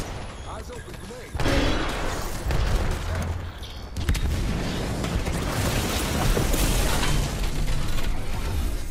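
A grenade goes off in the battle royale shooter Apex Legends with a sudden loud boom at about 1.3 seconds, then sustained rumbling and a second heavy hit near 4 seconds amid ongoing gunfire, with voices talking over it.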